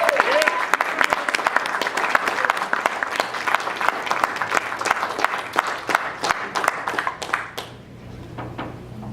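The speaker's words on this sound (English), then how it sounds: "And you can applaud on that." Sustained audience applause at the NFB Florida state convention, dense clapping throughout that thins toward the end, with some voices in the mix.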